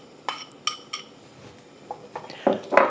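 Drained wood ear fungus tipped into a 5.5 quart Le Creuset cast iron Dutch oven for hot and sour soup, giving a few light clinks and a scraping clatter of utensil against pot, growing louder at the end.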